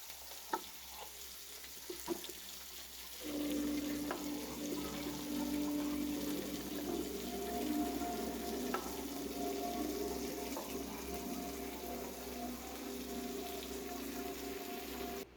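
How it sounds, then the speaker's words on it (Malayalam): Mustard seeds temper in hot oil for a buttermilk curry. A few sharp pops come first, then a steady sizzle with a hissing tone takes over and stays close and moderate to the end. "മോരൊക്കെ കടു വറുത്ത് റെഡിയാക്കി വെച്ചേക്കാം"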